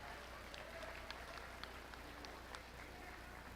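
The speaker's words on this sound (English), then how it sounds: "let's give a huge round of applause for all these Peewee showmen." Faint, distant applause from a crowd at a county dairy goat show for young peewee showmen, a steady low wash of clapping with scattered sharper claps and a background hum.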